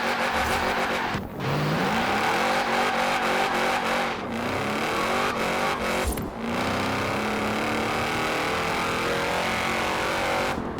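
In Forza Horizon 4, a stock 2012 Shelby 1000 engine roars continuously and loudly as it accelerates through the gears, with short dips at each shift and faint tire squeal, and no voices.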